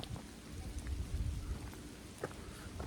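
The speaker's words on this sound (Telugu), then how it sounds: "మొత్తం రెయిన్ పడుతుంది ఫ్రెండ్స్." Steady rain falls on an open hilltop during a trek, a soft continuous hiss of drops with low rumbling wind or distant thunder underneath and no talking.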